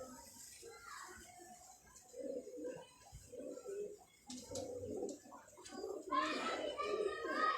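Ferozepuri pigeons coo in soft, repeated murmurs at close range, mixed with faint background voices and occasional chirps.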